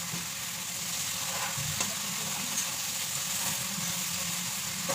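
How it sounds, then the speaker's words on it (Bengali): Pumpkin, eggplant and long beans frying in a pan, a faint steady sizzle with soft stirring scrapes and a low background hum. "মিষ্টি কুমড়া, বেগুন, বরবটি সব কিছু দিয়ে বেশ সুন্দর করে 5 মিনিট মতন ভালো করে ভাজতে থাকি আমরা"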